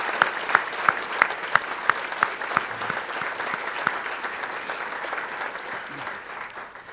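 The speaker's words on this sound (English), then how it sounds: "let's also thank, with another round of applause" Audience applause at a formal awards dinner for a liberty forum, a steady wash of clapping with sharp individual claps standing out early, fading in intensity toward the end.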